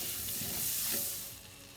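Butter melts and sizzles with sausage fat in a pan over medium heat, a steady, close frying hiss with soft crackle that swells in the middle and eases toward the end, with no talk.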